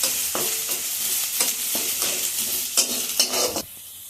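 Chopped ginger and red spinach leaves fry together in a pan, a close, steady sizzle broken by repeated scraping strokes of a spatula as the mix is turned, and the sizzle drops off at the end.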